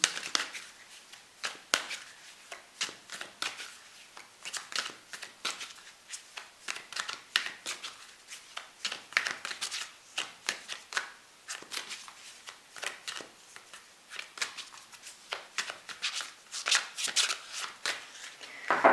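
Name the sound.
shuffling tarot cards before pulling a card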